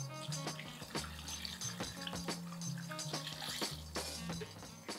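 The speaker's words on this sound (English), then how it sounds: "I'm gonna add some water to it with the seasonings" Water pours into a pot of chicken and provisions as a stew is started, a steady splashing and trickling with occasional clinks of the pot, fairly quiet and without talk.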